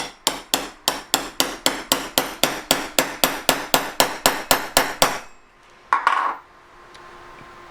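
About twenty evenly spaced metallic hammer blows drive a punch into a collet, loud and ringing, followed by a pause, a short scrape and a final tap.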